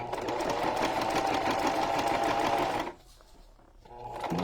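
Sewing machine stitching a junk journal cover, a fast steady mechanical whirr for about three seconds that stops abruptly, then quiet handling before the motor starts up again.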